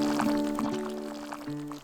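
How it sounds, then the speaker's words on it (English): Water pours into a cooking pot for a backpacking tan tan mien meal. It is a brief, close pour with a bubbling, gurgling tone that lasts under two seconds. "we're gonna start by putting in just about 500 milliliters of water"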